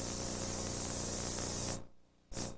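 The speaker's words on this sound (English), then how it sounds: "One of my more valuable tools is the airbrush." An airbrush sprays paint onto an illustration board in a steady, close hiss that cuts off and briefly resumes in a short burst.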